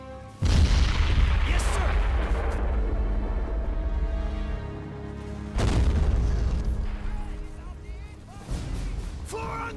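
Heavy artillery and gunfire booms ring out in a Men of War: Assault Squad battle at the Bulge, with loud repeated blasts and rumbling decay under a shouted voice line.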